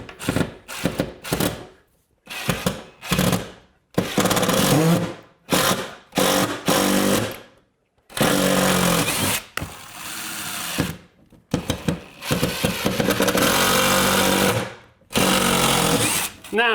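A power drill drives Phillips screws into a bracket while building a shiplap fireplace, with repeated loud bursts of motor whir and grinding separated by short pauses, and a person talking between runs.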